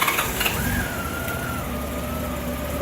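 A 1998 Honda GL1500 Goldwing motorcycle engine, freshly fitted with new timing belts, cranks briefly and fires, then settles into a steady, smooth low idle at close range.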